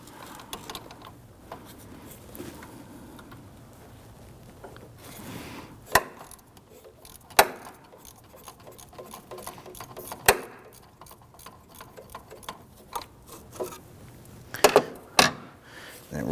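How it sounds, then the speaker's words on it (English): A regular ratchet with a 13 mm shallow socket turning a nut near the power steering reservoir of a 2009-2017 Volvo XC60, giving bursts of sharp clicks amid quiet workshop noise. "we're going to use our shallow head 13 on a regular ratchet"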